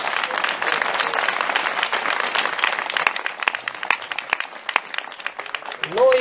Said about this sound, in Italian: vi chiedo un altro grande applauso per Don Marino